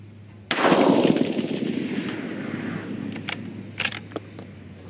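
One rifle shot during a charge weight load-development session at a range, a sharp report with a lingering rumble, followed by a few light clicks and clinks of handling, no speech.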